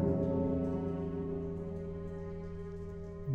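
A middle temple bell in the Pillars of Eternity video game rings out with a sustained, resonant tone, its many harmonics held and slowly fading across the whole stretch, with no talking.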